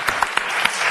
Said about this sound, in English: let's give a round of applause to our advocates